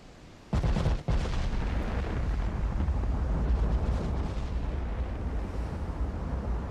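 Naval gunfire from battleships in Ultimate Admiral Dreadnoughts, with 13-inch guns firing. A sudden heavy blast is followed by a sharp second crack, then a long, loud rumbling roar that slowly fades.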